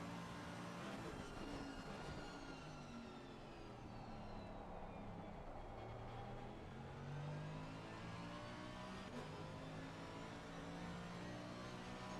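A Mercedes-AMG race car engine drones steadily and revs with rising and falling pitch throughout, loud and continuous with no talking.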